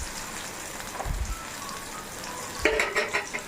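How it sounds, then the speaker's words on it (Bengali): Bitter gourd slices fry in a pan over a very low gas flame, giving a soft, steady sizzle throughout, with a couple of brief clatters or stirring knocks near the start and a louder burst of spattering toward the end. "এরকম উচ্ছে ভাজাটা হচ্ছে।"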